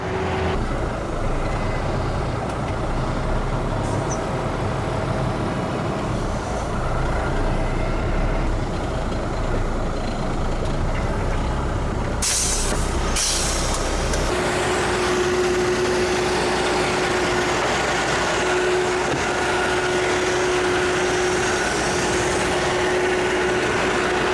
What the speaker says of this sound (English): let's definitely back up just a little bit more. With the boom truck, 15 feet really counts